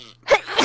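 A single quick sneeze, a short sharp burst with a brief intake before it, close and alone.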